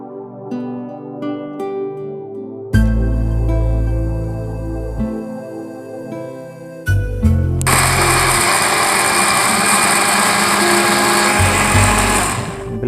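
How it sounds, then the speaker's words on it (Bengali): A kitchen blender whirs through raw mango and cold water for juice, starting and stopping in short bursts before settling into one long, loud, steady grinding run close by. "সেটা পানি দেওয়ার পরে আমরা এখানে ব্লেন্ডার করে নেব।"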